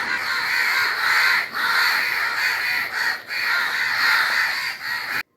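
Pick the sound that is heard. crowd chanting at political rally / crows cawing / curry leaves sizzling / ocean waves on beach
crows cawing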